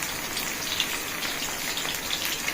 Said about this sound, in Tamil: ஃபஸ்ட்டு லெக் பீஸை வறுத்துட்டு மூணு பீஸ் போடலாம்